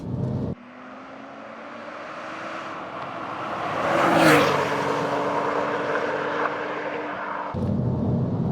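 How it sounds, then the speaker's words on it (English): A Porsche 997.2 Turbo accelerates hard on a UK road, its engine note climbing steadily and loudly through the revs before easing off, with no talking. "I just want to show you how stupidly quick this car is"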